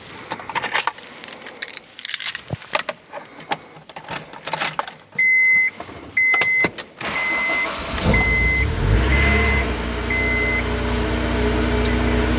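A Honda S2000 sports car cranks and fires up at close range, settling into a loud, steady idle with chimes beeping above it before the engine pulls away. Clicks and handling noises come first.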